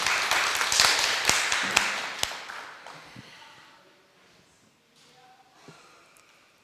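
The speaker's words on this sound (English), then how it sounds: "Can you clap for yourselves?" An audience at an East African art, meet and meat festival gives a short burst of clapping during officials' speeches; it starts fairly loud and fades to scattered claps within a few seconds.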